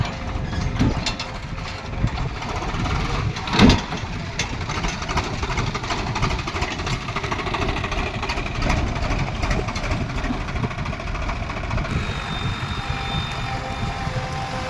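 A JCB backhoe loader's diesel engine runs steadily while loading a tractor trolley, a continuous rumbling drone with occasional louder surges and knocks, close and unbroken for the whole stretch.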